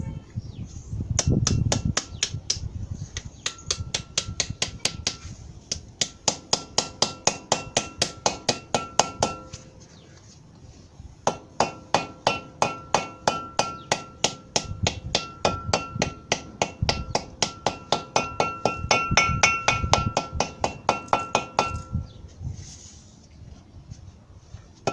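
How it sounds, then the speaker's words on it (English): Rubber mallet strikes on the front brake hub of a 1994 Ford Ranger with manual locking hubs, a long series of sharp, evenly spaced blows in rapid bursts with brief pauses, close and loud. "So, use a rubber mallet."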